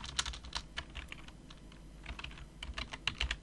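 Fingers type on a computer keyboard, a quiet run of quick, irregular clicks and taps with brief pauses, close up and alone without speech.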